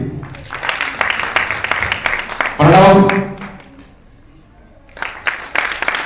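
Clapping from the crowd at an Indian classical music and dance event in Dubai rises and falls as performers are introduced, with an amplified announcer's voice cutting in between bursts.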